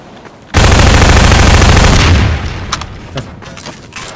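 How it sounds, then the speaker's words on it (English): Explosions in the video game Half-Life 2: a sudden loud burst of rapid blasts erupts and roars for about a second and a half, then fades into scattered sharp pops and rumbling. "Big explosions."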